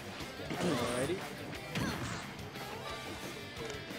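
An up smash attack lands in Super Smash Bros. Ultimate, giving a punchy impact crash with whooshing game effects under continuous excited commentary.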